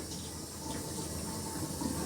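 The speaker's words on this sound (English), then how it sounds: "This water takes a nice good amount of time to heat up." Tap water running steadily into a sink while it heats up, a continuous soft hiss and splash heard alone at fairly low level throughout.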